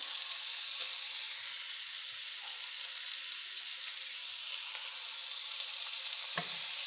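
Parmesan crusted chicken tenderloins fry in hot oil in a pan, a steady bright sizzle running throughout with a few small pops and spatters, no voices.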